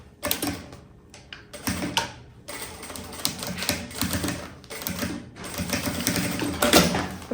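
A sewing machine stitches fabric panels for a patchwork puffer backpack, a steady close mechanical clatter in several runs separated by short stops, with loud continuous stretches toward the end.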